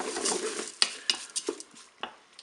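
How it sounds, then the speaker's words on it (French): Rice tipped into a Cookeo multicooker and stirred makes a soft grainy rustle, then several sharp clinks and scrapes of a utensil against the pot, spaced irregularly and close by. "Je vais ajouter le riz."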